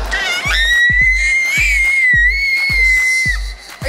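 A young child screams in a high, sustained, piercing tone inside a natural science museum, close and loud, with rhythmic low thumps underneath.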